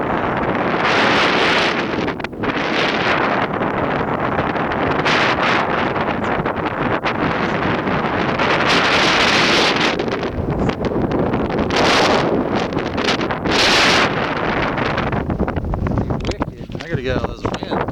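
Strong wind buffets the microphone near the summit ridge of Mount Katahdin after the descent off Pamola Peak, a loud, continuous roar with gusting surges rising and falling throughout and no talk over it.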